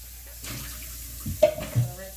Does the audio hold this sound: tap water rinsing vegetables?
yes